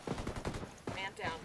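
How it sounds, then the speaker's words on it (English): Enemy automatic gunfire in Ghost Recon Wildlands, a short rattling burst of several quick shots, moderately distant and fairly quiet, with a voice faintly mixed in. "Taking fire! We got enemy activity."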